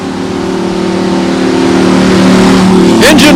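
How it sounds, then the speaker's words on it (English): A fire engine rolls past during a Blue Line Ride parade honoring first responders, its engine rising steadily louder as it nears, ending in a short burst of brighter sound. "our fire department coming through here"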